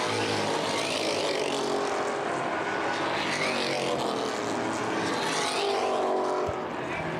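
Race cars lapping during the 2011 Winchester 400 weekend preliminary events, a continuous roar of engines with rising and falling passes, fairly loud and steady with no talk.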